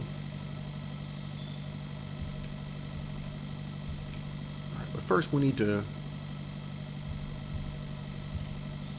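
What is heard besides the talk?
tractor engine idling in Pure Farming 2018 video game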